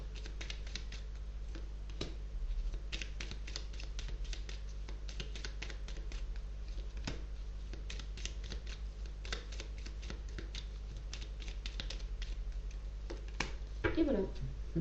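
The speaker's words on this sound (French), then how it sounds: "prendre quelques cartes pour terminer" Tarot cards shuffled, drawn and laid out during a reading, giving a steady run of soft papery flicks and taps close by, with a low hum beneath and a brief louder handling burst near the end.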